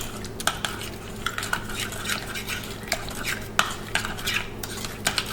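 A spoon stirs and scrapes chicken pieces and vegetables with seasoning in a pan, giving repeated clinks and knocks against the metal in an irregular rhythm, close up with no talking.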